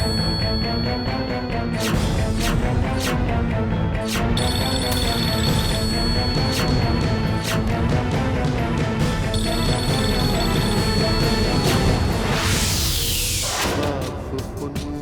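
A telephone rings loud and steady throughout, layered over a dense bed of background music with sustained tones and a sweeping rise near the end.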